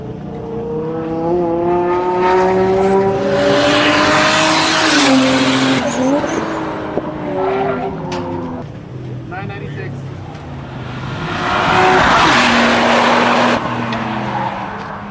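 Supercharged Ford V8-powered Volvo 740 race car on a track run at Albuquerque during the 2002 One Lap of America; a loud, continuous engine drone rises and falls in pitch as it revs and shifts.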